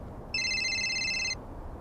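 A phone rings with one electronic ringtone burst of about a second, bright and clear over a low background hum, with no voices.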